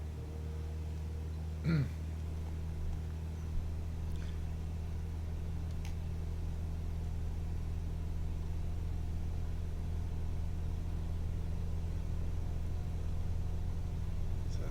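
Aircraft engine at full throttle on a takeoff roll in Microsoft Flight Simulator, a steady low droning hum held evenly throughout on the short runway at Saba, with a brief squeak near the start.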